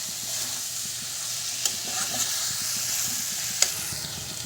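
Mushrooms frying in oil in a pan as they are stirred, a steady close sizzle with a soft hiss and occasional scrapes and clinks of the spoon against the pan.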